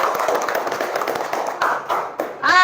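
Schoolchildren in a classroom clap for a classmate who answered a question, a brisk patter of uneven hand claps that breaks off near the end as a voice begins.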